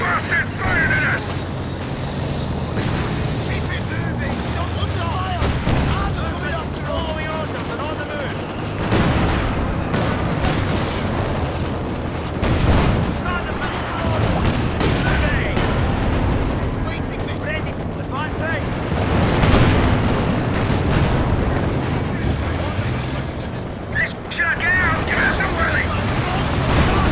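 Enemy gunfire and explosions crackle through a Company of Heroes 2 battle, a dense, continuous jumble of shots and blasts heard under game voices.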